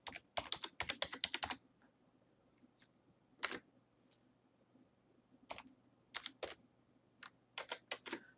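Password keystrokes tapped on a computer keyboard, quiet bursts of quick clicks separated by short pauses, close and alone.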